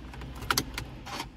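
Mini Cooper car keys jangle briefly up close, a few quick metallic clinks and rattles, faint and without talk.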